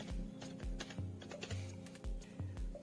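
Someone types an email address on a computer keyboard, a run of about seven quiet, evenly spaced key clicks close to the microphone, with no talk.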